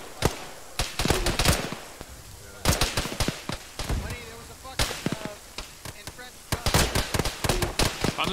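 Gunfire in the military shooter Arma crackles in loud irregular volleys of sharp shots and short bursts, with a voice talking between them.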